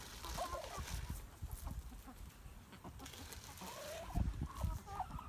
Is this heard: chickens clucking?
yes